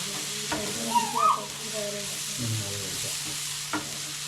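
Masala-marinated clams frying in a pan, stirred with steady scraping strokes over a continuous sizzle and a few louder clatters, close by with no talking.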